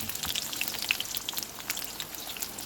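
Steady crackling sizzle of chopped garlic frying in two teaspoons of hot oil in a kadai, with scattered sharp pops over a soft hiss, close and fairly quiet.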